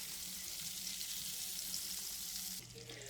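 Butter sizzles and melts in a hot frying pan during weeknight dinner cooking, a steady close crackling hiss that holds evenly before shifting and softening slightly near the end.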